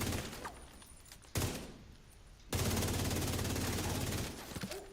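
Gunfire in the shooter video game The Division 2, loud sustained bursts of automatic fire with a brief pause, then a dense continuous barrage.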